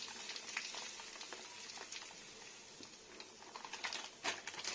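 Semolina roasting with whole cumin seeds in a pan, making a faint, soft, steady crackle and patter with occasional light stirring scrapes, heard close with no voices.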